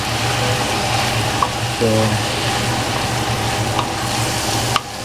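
Paksiw na lechon stirred in a pot over steady sizzling and bubbling, with a spoon scraping and occasional clinks, and a brief voice near the end.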